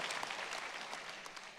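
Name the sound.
audience applause at a conference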